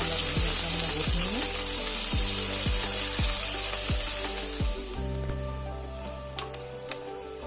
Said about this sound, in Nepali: प्याज मसिनो गरेर काटेको लगाएर त्यसलाई भुट्नुपर्छ